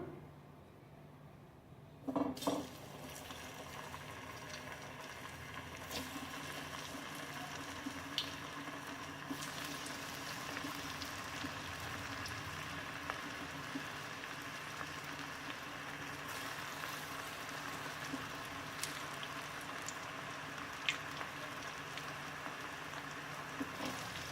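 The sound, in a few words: deep frying raw jackfruit kola balls in oil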